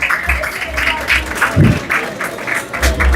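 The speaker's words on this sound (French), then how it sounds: "On les applaudit" Short burst of crowd clapping at a speech event in Haiti, moderately loud and steady for about three seconds, with speech-like sounds faintly underneath.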